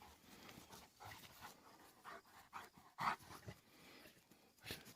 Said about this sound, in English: These are Great Pyrenees.